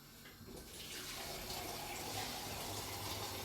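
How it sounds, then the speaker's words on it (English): Water pours steadily into a pot of soaked peas, a continuous splashing gush that starts softly and then settles into a full, even flow, close by and fairly quiet. "You just add some more water to it."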